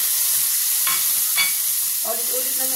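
Tomato and onion frying over high heat in a pan, a loud continuous sizzle broken by a couple of brief stirring scrapes and a short tonal clink near the end.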